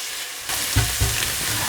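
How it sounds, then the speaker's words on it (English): Garlic puree and ginger hit a hot pan and fry with a sudden loud, continuous sizzle, broken by a couple of soft stirring scrapes, with no voices. "I'm going to add my garlic puree and also my ginger, and we're just going to fry this for around a minute or so"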